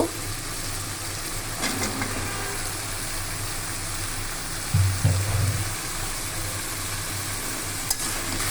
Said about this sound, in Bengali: এখন মশলাটা কষে গিয়েছে এখন এই অবস্থায় আমরা লতিটা দিয়ে দিব